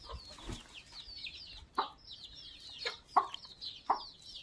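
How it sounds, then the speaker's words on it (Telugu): Backyard chickens scratching and squabbling outdoors make scattered clucks and short calls, with repeated high chirping in the background, all fairly faint. "మా కోళ్ళు అయితే ఒకటే దుమ్ము లేపుతున్నాయి"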